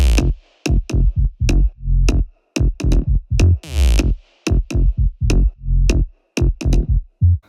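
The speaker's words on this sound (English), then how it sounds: "So here's what the bass sounds like." Electronic dance track built on a choppy, rhythmic synth bass in a short pumping pattern, loud and dense, with a brief swept noise rise near the middle and abrupt gaps between phrases, no voices.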